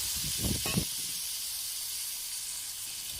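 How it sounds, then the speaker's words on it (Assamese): Water poured into a pan of frying jackfruit: a short burst of splashing and bubbling up close, then a steady, even steaming hiss that continues quietly to the end. "ভালদৰে ভাজা যোৱাৰ পিছত মই ইয়াতে এবাটি পানী দিছোঁ"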